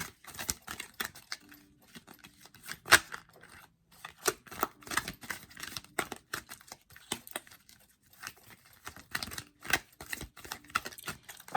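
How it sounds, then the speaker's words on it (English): A thick, bulky tarot deck being shuffled by hand, producing repeated bursts of crisp card riffles and soft slaps in an irregular rhythm, close and fairly quiet with no talking. "This deck is rather bulky and thick and hard to shuffle."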